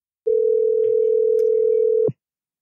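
A steady telephone dial tone sounds alone after a dropped call, holding one unbroken pitch for nearly two seconds at close, clear level before cutting off abruptly with a short click.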